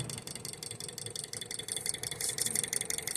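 Small Stirling engine fitted with a valve for RPM control, running near its slowest speed, giving off a quiet, rapid, regular mechanical ticking and rattling that holds a steady rhythm and grows slightly louder toward the end.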